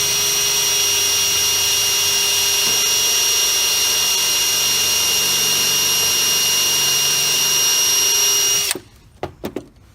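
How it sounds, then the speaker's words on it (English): A power drill bores a pilot hole into a wall for mounting a coach lamp, whining loud and steady at close range for several seconds before stopping, followed by a few sharp knocks. "Do your pre-drill hole."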